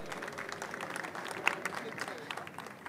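Classroom group claps for fellow students, brief moderate applause of scattered hands with a voice heard over it, fairly faint.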